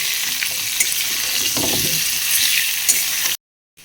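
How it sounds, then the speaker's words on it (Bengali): Loud, continuous sizzling of potatoes frying in oil with turmeric and chili powder, with some stirring scrapes, then a sudden cut to silence. "ভালো করে লাল করে ভেজে নেব।"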